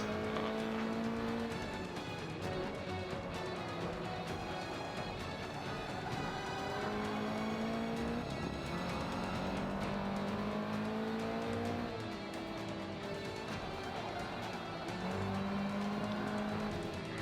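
A car races in the video game Forza 5, its engine rising and falling through gear changes while the tires squeal, loud and continuous throughout.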